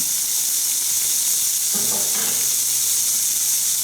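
Rinsed canned kidney beans hitting a pan on medium heat for vegan nachos, a steady close hiss of sizzling with a brief louder burst of frying and stirring partway through.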